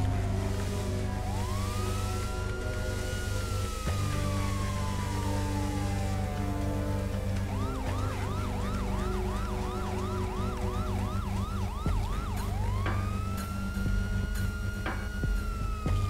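Police car siren wailing in the GTA RP game, rising and falling sweeps shifting into a fast yelp pattern, loud and continuous over engine and traffic noise, with no talking.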